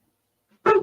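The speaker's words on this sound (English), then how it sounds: "Is that the dog?" A dog barks once somewhere nearby, giving a short, sharp sound at the very end of an otherwise quiet moment.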